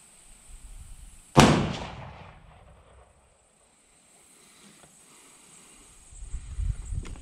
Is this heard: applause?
no